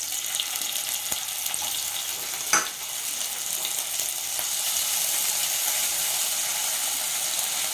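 Green chillies and chopped tomatoes frying in a pan for a peanut chutney, giving a steady, moderately loud sizzle with a brief clatter near the middle and no talk.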